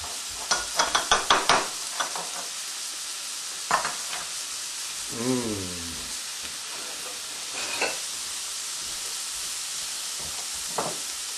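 Soy sauce marinade stirred in a bowl for lettuce wraps, a series of quick clinking, scraping strokes up close with scattered softer knocks and a brief tonal squeak midway.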